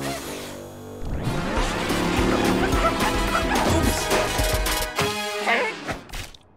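A cartoon puppy yips and barks in a busy animated scene, with short bright barks mixed into music, thumps and other cartoon sound effects.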